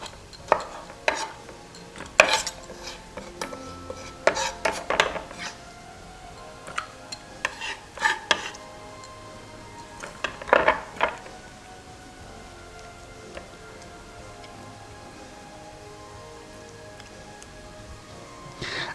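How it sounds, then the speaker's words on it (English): Tomatoes are chopped into small pieces in a home kitchen, giving sparse, close knife taps and clicks on a board in irregular bursts, then a long quiet stretch with faint clinks. "I will chop my tomatoes"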